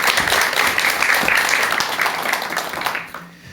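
A lecture audience breaks into full applause that holds steady, then thins out and fades toward the end.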